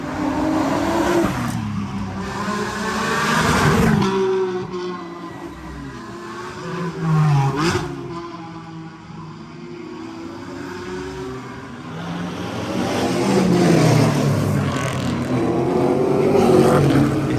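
A Mercedes AMG GT race car storms along a road circuit, engine surging and fading as it passes, with rising and falling revs and bursts of louder roar between quieter stretches.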